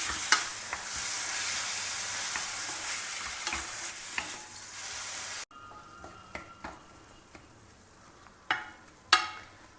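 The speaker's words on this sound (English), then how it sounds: "Now cook this till the tomatoes become soft and mushy" Chopped tomatoes frying with golden onions for a brinjal gothsu, a steady loud sizzle with stirring at first, then quieter frying broken by sharp spoon scrapes and clinks against the pan.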